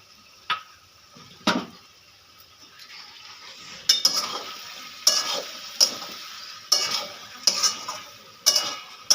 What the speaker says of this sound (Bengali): এবার আমি দিয়ে দেবো ভেজে রাখা চিংড়ি মাছগুলো